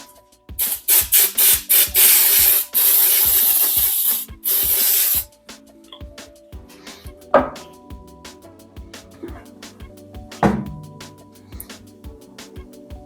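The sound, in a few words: spraying cooking oil from a spray can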